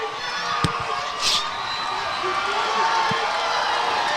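Crowd noise at a high school football game between Mountain Crest and Stansbury, a steady distant roar of cheering under a commentator's voice, with a couple of sharp thumps along the way.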